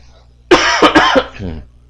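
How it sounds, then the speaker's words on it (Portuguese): A person coughs close up in a quick burst of three or four harsh hacks from an allergic cough, ending with a brief raspy throat sound. "A tosse tá feia, né?"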